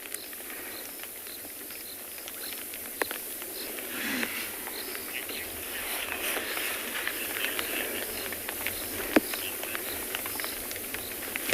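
Raindrops pattering on a roof during an evening safari, a steady soft hiss of light rain with scattered sharper drips and taps throughout, faint and continuous, with no talk.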